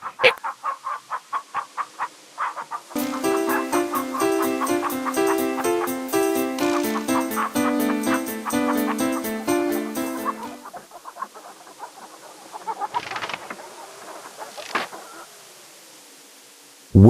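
A chicken in the video game King's Quest III Redux clucks in a quick run of sharp calls, then a bright chiptune jingle plays for several seconds, followed by scattered softer clucks and squawks.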